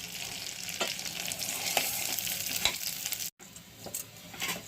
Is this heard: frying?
yes